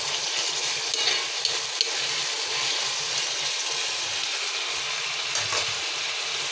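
Onion and garlic for pigeon curry fry in a hot pan, giving a steady bright sizzle throughout, with faint stirring scrapes and low knocks underneath.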